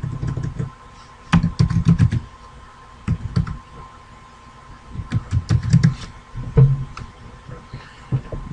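Someone types on a computer keyboard in irregular bursts of quick key clicks separated by short pauses, fairly close and with no talking.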